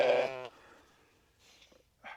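Sheep bleat at a farm livestock shelter: one loud, close, wavering bleat, then fainter distant bleats from the flock a moment later.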